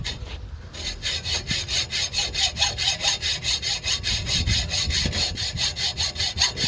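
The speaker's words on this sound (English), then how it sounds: "It's trying to cut the edge of the bolt." Rhythmic back-and-forth cutting strokes rasp steadily through a broken bolt on a 1998 Acura Integra, loud and close, after a brief pause at the start.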